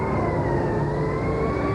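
An ambulance siren wailing loud and steady as the ambulance speeds away from a Dallas police basement entrance, a continuous tone over deep engine rumble.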